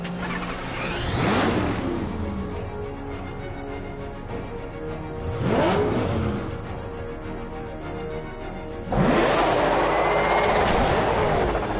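A military vehicle's engine roars during a pursuit in the video game Batman: Arkham Knight, with swelling revs and whooshing passes that build three times, the last one loudest and sustained.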